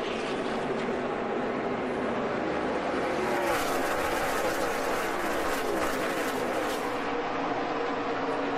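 Stock cars roaring around the track at the 2011 Great Clips 300 NASCAR race, a dense, continuous wall of engine noise with a rising pass near the middle, steady and loud throughout.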